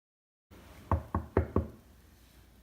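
Four firm knocks on a hotel room door, close and evenly spaced after a moment of silence, with no voices.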